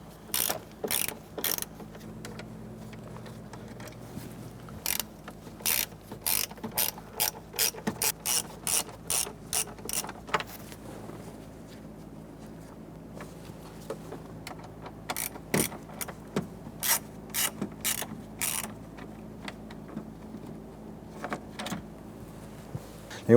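Two 7mm screws on a 1994-2004 Ford Mustang headlight switch being loosened and removed with a ratchet: repeated quick clicking bursts, close and fairly quiet, in several runs with short pauses between them.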